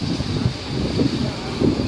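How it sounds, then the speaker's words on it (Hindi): Wind blows across the Marine Drive seafront in Mumbai, a continuous rumbling gust noise buffeting the microphone, loud and close with swelling low surges and no clear speech. "ठंडी ठंडी हवा चल रही है"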